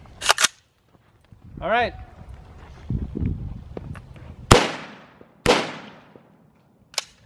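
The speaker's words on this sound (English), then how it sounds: "So I'm gonna come back and shoot it one more time on the top a little bit." 5.56 rounds fired into stacked Kydex at a range, two sharp loud cracks a second apart in the second half, preceded by a faint pop and handling noises, with a short spoken remark.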